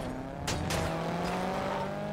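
A car driving in the GTA video game, a steady engine drone with a rising tire squeal and a couple of brief screeching bursts, fairly close and continuous.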